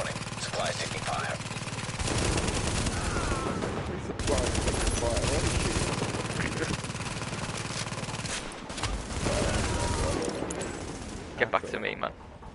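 Gunfire in The Division video game, with sustained bursts of automatic fire and rattling shots coming in waves, mixed with players talking over it.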